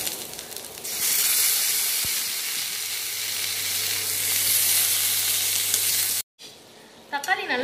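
Tomatoes added to golden fried onions in a pan for a village-style chicken kurma, a loud, steady sizzle and hiss of frying that runs for several seconds, then a brief stir and a softer sizzle afterward.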